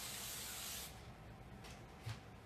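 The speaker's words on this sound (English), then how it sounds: "take a small layer and hairspray it" Hairspray hisses from an aerosol can onto a small layer of hair during competition cheer styling, one steady close spray lasting under a second before stopping, followed by quiet handling noises.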